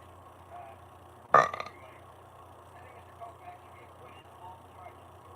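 One loud, abrupt burp erupts close to the microphone and breaks into a short gurgling tail, with quiet room sound and faint murmurs on either side.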